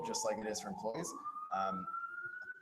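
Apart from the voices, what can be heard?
police siren in New York City street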